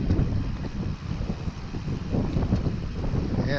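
Wind rushes across the microphone during an afternoon recumbent bike ride on a sunny day, a steady, loud buffeting roar that fills the whole clip with no voices heard.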